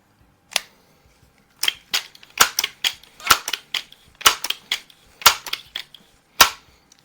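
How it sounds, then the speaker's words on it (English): Crosman pump air rifles, a 66-4x and a 2100 Classic fitted with Buck Rail suppressors, fire a string of about a dozen sharp, dry, close snaps at irregular intervals over a quiet background. "Both of these guns with 5 pumps are well over 500 feet per second."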